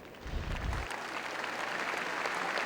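A basketball arena crowd at an NC State Wolfpack home game applauds an injured player, steady moderate clapping spread across the stands and heard from a distance.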